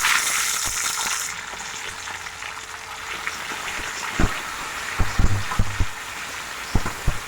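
Onion and tomato fry in a pan for dal with a steady crackling sizzle. Occasional louder spits and stirring knocks come through, and the sizzle brightens for an instant as the tomato goes in.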